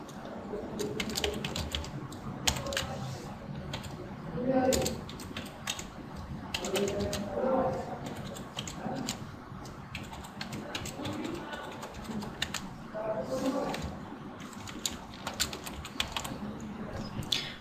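Steady clicking of fingers typing data into a database table on a computer keyboard continues throughout, with faint muffled voices in the background.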